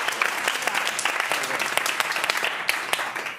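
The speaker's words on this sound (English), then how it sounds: "Give yourselves a round of applause for those." Audience clapping steadily, a dense wash of applause from a crowd that fades slightly at the end.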